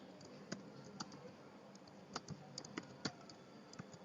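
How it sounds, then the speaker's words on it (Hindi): Someone types on a computer keyboard with quiet, irregular clicks and key taps scattered over a few seconds, set close against faint room hiss. "अब यहाँ पर हम टाइप करेंगे फॉर एग्जांपल"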